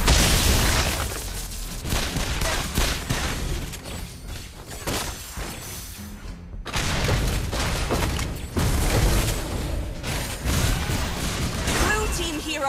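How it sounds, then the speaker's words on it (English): Explosions from a turret being destroyed in a MOBA video game, with booming blasts and crashing effects over a continuous dense game soundscape, with announcer-style voice lines mixed in. "Blue team turret has been destroyed!"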